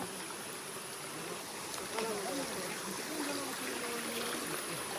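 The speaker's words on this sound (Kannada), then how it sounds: "ಬೆಟ್ಟದಿಂದ ನೀರು ಬರೋದು ಬೆಟ್ಟದಲ್ಲಿ ಜಲ ಉಕ್ಕಿ ಬರೋದು" Spring water welling up from a hillside rushes and trickles steadily in a soft, continuous wash, heard from close by with faint, indistinct sounds beneath it.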